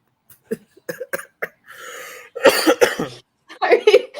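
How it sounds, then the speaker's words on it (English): Several harsh coughs from one sick person close by, mixed with short vocal sounds and a drawn-out breathy exhale in the middle. "Oh my god, it's just the cough now."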